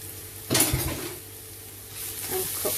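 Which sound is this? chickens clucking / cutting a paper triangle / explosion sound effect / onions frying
onions frying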